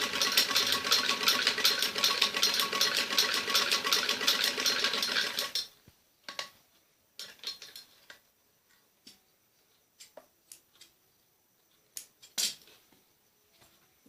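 A sewing machine stitching the shoulders of an umbrella frock runs in a dense, steady whir for about five and a half seconds, then stops, leaving scattered clicks and small handling taps.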